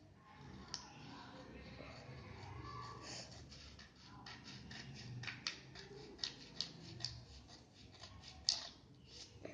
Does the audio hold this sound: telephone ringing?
no